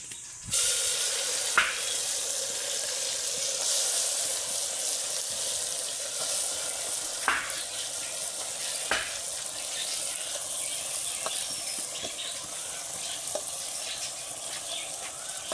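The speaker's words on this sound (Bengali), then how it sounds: "মাখানো মাংস এখন ঢেলে দিব হাঁড়িতে।" Marinated mutton poured into hot oil in a pot sizzles loudly and continuously, with a few sharp clinks of utensils against the pot scattered through the steady frying hiss.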